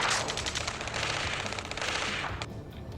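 Rapid automatic gunfire from a ground firefight in the video game Ace Combat 7, a dense, loud burst of overlapping shots that runs almost continuously before cutting off near the end.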